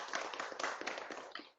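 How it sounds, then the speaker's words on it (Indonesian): Applause from a live audience at a religious talk in Makassar: a short burst of quick, irregular hand claps, fairly faint, fading out after about a second and a half. "Tepuk tangan."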